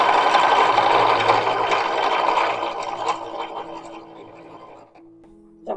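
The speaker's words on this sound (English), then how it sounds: "We're just going to run or sew all of these seams as quickly as possible." A sewing machine runs steadily while stitching run-and-fell seams on an 1850s-style infant's closed shirt or chemise, a loud continuous whirring that thins out toward the end and stops briefly before a short restart.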